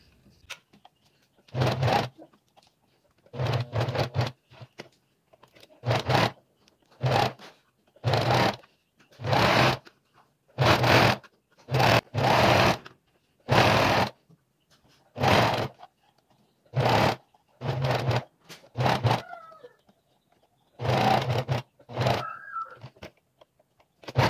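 Sewing machine stitching a narrow rolled handkerchief hem on a vintage apron, running in short repeated bursts of about one to two seconds separated by brief pauses, close and steady.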